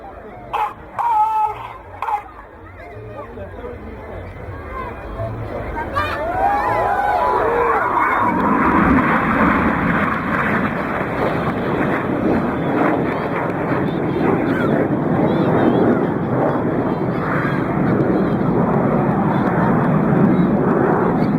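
RAF Red Arrows jets in a flying display at the Bristol Balloon Fiesta, with a powerful roar swelling from a distance into a sustained, loud jet rumble; a commentator and crowd noise sit underneath at first.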